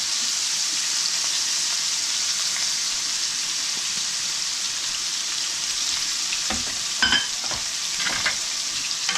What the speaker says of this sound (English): I'm going to put my onions in and saute them